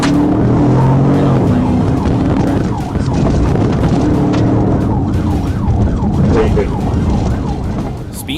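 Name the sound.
police car siren during a chase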